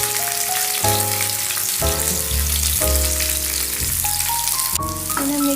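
Ginger and chopped capsicum sizzle steadily in a hot pan for chilli paneer, a dense continuous frying hiss over background music, with no talking.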